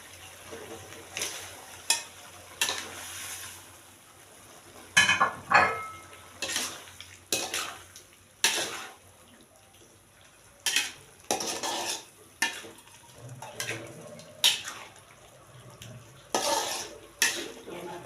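Shrimp is stir-fried in a pan for an Indonesian stir-fry of beans and shrimp, heard as repeated scraping and clattering spatula strokes over a faint sizzle, close and rhythmic, with a little talk in the background.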